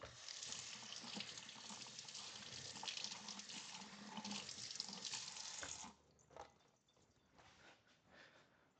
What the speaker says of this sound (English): let me wash this knife real quick